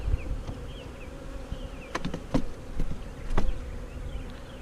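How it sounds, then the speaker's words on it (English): A dense buzzing of a honey bee swarm being installed into a hive hums steadily up close, with occasional louder passes of individual bees and faint knocks. "So I'm just going to take these bees, I'm just going to dump them"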